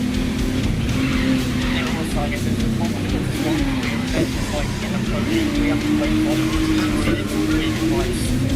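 In Grid Legends, a race car's engine drones steadily while it brakes hard into a corner, with tire squeal and skidding rising and falling across the whole stretch. Someone talks over the sound throughout.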